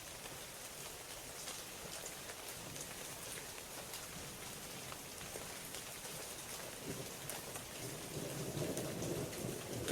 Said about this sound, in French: mais la pluie tombe aussi